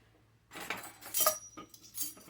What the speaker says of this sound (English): after I get my bottle open